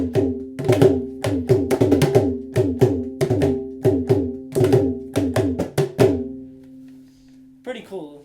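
Mridangam, an Indian double-headed barrel drum, struck on both heads at once in a quick rhythmic pattern of resonant, pitched strokes with deep booming bass under sharp ringing slaps, close and loud, ending in a fading ring and a brief noise.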